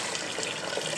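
Water pours steadily into a cooking pot of rice, a continuous close splashing gush for a brief moment with no talk over it.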